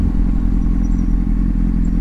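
Steady low engine rumble of a motorcycle being ridden, constant and loud with road and wind noise throughout, no voices.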